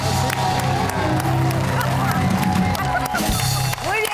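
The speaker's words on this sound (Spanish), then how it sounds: "un aplauso a Kate Castillo." A television studio audience applauds and cheers for actress Kate del Castillo on a late-night talk show, a loud, continuous wash of clapping and whoops with a faint voice running underneath.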